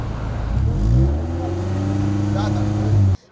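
A tuned car's engine revs hard under acceleration, swelling to a loud rising drone and holding steady for about three seconds before cutting off abruptly.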